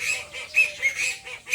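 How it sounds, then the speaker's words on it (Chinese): Rooster and duck calls from poultry on a small rural farm, a series of nasal honking, quacking cries repeating in loud bursts over a busy, continuous chorus of fowl with no talking. "前面是鸡哥的叫声，后面是鸭子"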